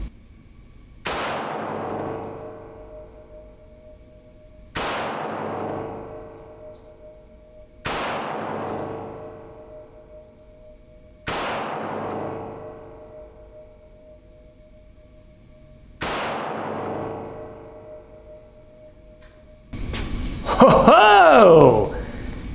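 An H&K USP Expert pistol fires five well-spaced single shots at a range from 10 yards, each a sharp loud crack with a ringing decay, followed by an exclamation from a voice.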